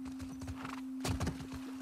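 Horse hooves clip-clop in The Last of Us Part II, a steady run of close, moderately loud hoof falls on a countryside ride, with a brief whinny-like burst partway through and a constant low hum beneath.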